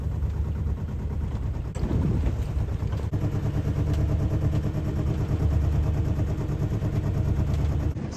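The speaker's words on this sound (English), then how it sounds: "I have the motor running in neutral" A sailboat's motor idles in neutral while the boat eases slowly toward a harbour entrance, a close, steady chugging rumble with some clatter and a couple of brief knocks, no voices.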